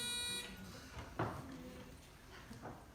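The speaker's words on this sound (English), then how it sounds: "Touch the buzzer." An electronic quiz buzzer is pressed once at an individual academic bowl tournament, a sustained tone opening the clip before cutting off, followed by quieter room noise and faint movement.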